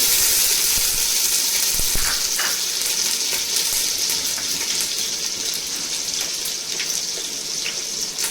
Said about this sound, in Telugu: దీంట్లోకి అల్లం వెల్లుల్లి పేస్టు ఇప్పుడే ఫ్రెష్గా వేసుకున్నది.